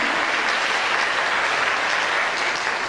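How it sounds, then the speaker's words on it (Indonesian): Steady applause fills a seminar hall as an audience claps together, a dense, even wash of many hands at a constant level throughout, with no talk over it. "Tepuk tangan buat para PUM teman-teman."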